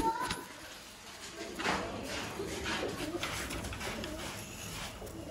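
Pigeons cooing at a pigeon market in Sialkot, soft repeated coos close by amid outdoor background noise and scattered movement, with faint voices nearby.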